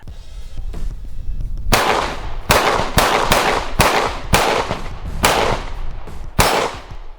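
Glock 48 pistol fired with Shield Arms S15 15-round magazines: about nine sharp, loud gunshots at an uneven pace on a range, with a brief pause between some shots and low background rumble before the first.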